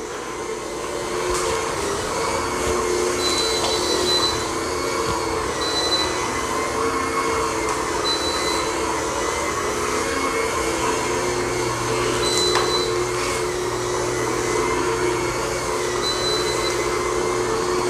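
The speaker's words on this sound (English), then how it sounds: "It's a pretty good hard floor mop. It does have quite a lot of torque, so it seems to scrub." Bissell Spinwave powered hard floor mop running on a dirty floor, a continuous loud motor drone with a steady whirring hum and faint periodic chirps, close and unbroken, no talking.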